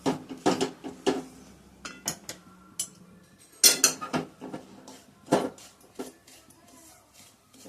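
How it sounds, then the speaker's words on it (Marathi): Semolina roasting in a pan while being stirred, with repeated metallic scrapes and clinks of a spoon against the pan in irregular bursts, close and moderately loud with quieter gaps. "रवा चांगला खमंग वास येईपर्यंत भाजून घ्यायचा आहे"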